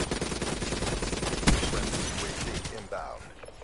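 Video game gunfire crackles in quick bursts, loud and close, with a sharp louder shot near the middle, while someone talks over the shooting.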